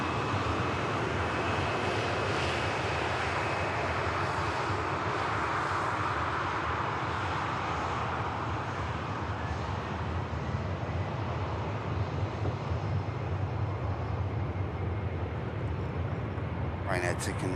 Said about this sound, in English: Ryanair taking intersection off to Rome